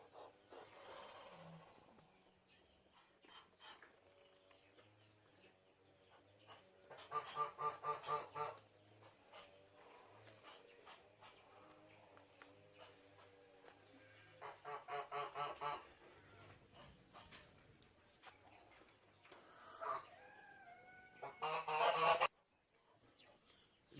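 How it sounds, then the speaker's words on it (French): Mixed ducks and geese kept together on a small integrated farm, honking and quacking in loud bursts between quieter stretches, close by, with no talking. "Les canards, les oies, comme vous observez là"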